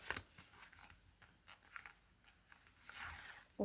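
A paper surprise packet, a handmade craft envelope, is opened with soft crinkling, tearing and rustling of paper, light and close, in short irregular bursts with a louder crackle at the end.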